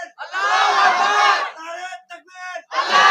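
A crowd at an Islamic sermon roaring the takbir chant, a loud unified shout from many voices, then a shorter call and a second swell of the crowd's response.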